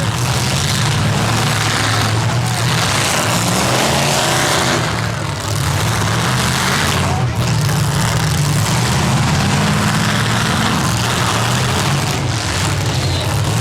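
Full-size stock cars grind and roar in a demolition derby, a dense, steady wall of loud engine noise with occasional dips, broken by brief crunching impacts.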